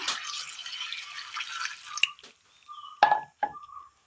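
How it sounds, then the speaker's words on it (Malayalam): Water pours and splashes briefly into a pan of chopped onion and tomato, followed by a few soft drips and light clinks in an otherwise quiet kitchen. "ഒരൽപ്പം വെള്ളം ഒഴിച്ചു കൊടുക്കാം"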